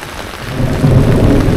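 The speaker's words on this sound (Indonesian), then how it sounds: "tuh petir" Heavy rain pours steadily at Dieng while a deep rumble of thunder swells and rolls through, growing louder toward the end.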